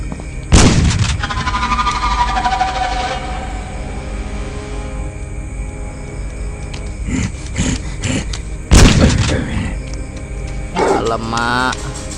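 Gunfire in a video game, two loud, sharp shots with ringing tails, followed by quieter mechanical clicks and a short burst, over a game soundtrack.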